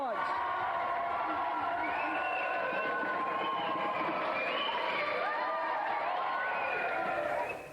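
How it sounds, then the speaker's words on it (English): A studio audience at a game show claps and cheers for three contestants. The applause is loud and steady, with whoops and shouts layered over it, and it fades near the end. "Another round of applause then for our three contestants."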